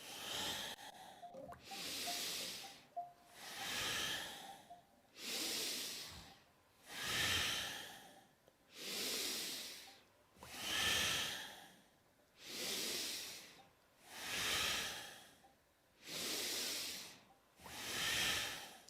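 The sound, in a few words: deep breathing during yoga, inhaling and exhaling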